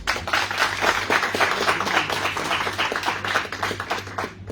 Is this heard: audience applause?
yes